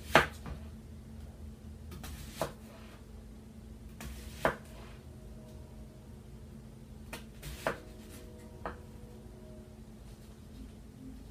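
Knife slicing a cabbage resting flat side down on a board, a series of sharp, separate chopping thuds spaced a second or two apart, close and fairly quiet.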